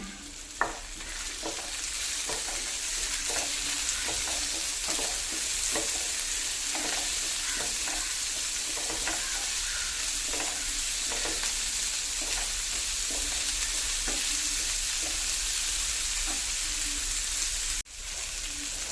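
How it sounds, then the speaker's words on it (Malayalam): Tomatoes sautéing in a pan, a continuous sizzle with regular scraping stir strokes and a sharp knock near the end, no talk. "തക്കാളി കേട്ടോ അതൊക്കെ ഒന്ന് നല്ലോണം വഴറ്റിയിട്ട്"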